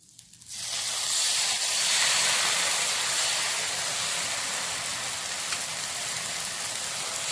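Rava dosa batter hits a hot griddle and breaks into a loud, bright sizzle that starts abruptly and holds a steady hiss, easing slightly as it cooks.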